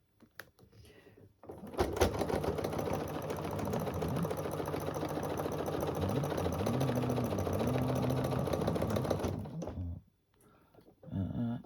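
Sewing machine fitted with a ruler foot running a quarter-inch seam on a small quilted runner, a steady rapid stitching chatter lasting around eight seconds, with brief pauses and handling sounds at either end.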